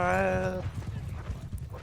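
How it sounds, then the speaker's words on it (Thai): Horse hooves from riders approaching in Mount & Blade II, a rhythmic clip-clop that begins after a short voiced tone and then carries on at a steady pace, moderately close. "ด้านหลังขี่ม้ามาแล้วครับ"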